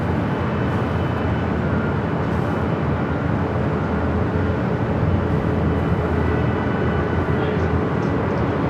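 A Delta heavy jet taking off from runway 24 Left at Los Angeles International Airport, a loud, steady broadband engine roar that holds without a break throughout.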